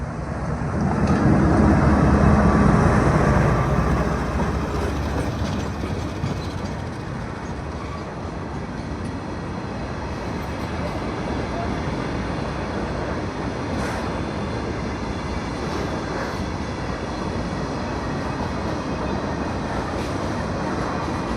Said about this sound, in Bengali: পেট্রোলের ট্রেন পার হবে।